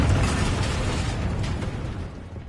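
Repeated Confringo blasting-spell explosions in the video game Hogwarts Legacy, a loud, dense rumbling burst that slowly fades across the clip with mechanical crackle layered in.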